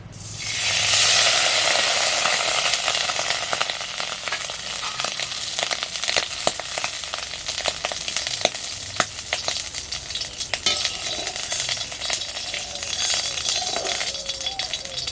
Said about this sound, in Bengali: ঘিটা দেওয়ার সাথে সাথেই চড়বড় চড়বড় করে আওয়াজ হতে লেগেছে